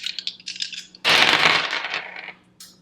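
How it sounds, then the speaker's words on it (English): Dice clatter onto a table during a tarot reading: a long, loud rattling tumble that rolls and settles over about a second, with lighter clicks before it and a final small knock. "This might be a little loud when it hits the table, the dice."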